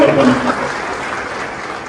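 Applause from an audience at a women's self-help group loan event, a close, loud burst of clapping at the start that settles into a softer, steady patter.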